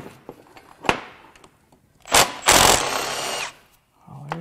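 A power tool works at bolts on a damaged Honda Accord J35 V6 engine during a teardown, giving short loud whirring bursts, with a longer spin in the middle, between quieter pauses and faint handling noises.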